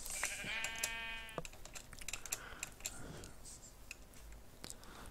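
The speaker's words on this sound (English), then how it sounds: "These sheep probably love me taking their coats off." A sheep bleats in the Minecraft video game while being sheared, one wavering bleat at the start, followed by fast, faint clicking keyboard typing.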